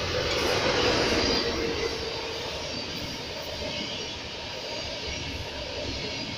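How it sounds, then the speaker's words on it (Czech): Express train 892 Slovácký expres passing through Brandýs nad Orlicí, a broad, steady rumble and rush of wheels and cars that swells loudest early on and then holds at a sustained roar with no voices. "Takže teď pojede vlak."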